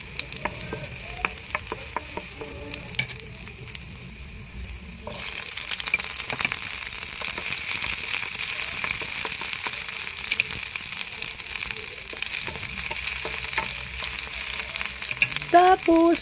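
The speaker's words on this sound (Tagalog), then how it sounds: "Pag nagisa nyo na yung bawang, pwede na yun. Isusunod yung sibuyas." Garlic and onion sauté in a pan for a ginisang dilis, a steady close sizzle that swells sharply about a third of the way in, with occasional scraping stirs and no talking.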